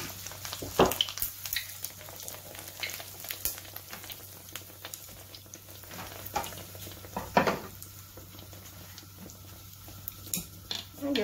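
Sesame-coated bánh tiêu dough frying in hot oil, a steady soft sizzle with scattered clinks and scrapes of a utensil stirring and lifting pieces from the pan, close and moderately quiet, no voices.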